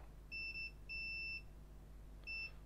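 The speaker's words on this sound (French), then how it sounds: "Là ça bip, c'est pas normal." Faulty MacBook Air that will not power on, giving a pattern of faint high electronic beeps, two short ones, then a longer one, then another short pair after a pause, over a low steady hum.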